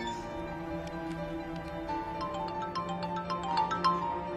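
A mobile phone rings indoors, a quiet repeating electronic melody of tinkling tones, steady and moderately faint, with no voices.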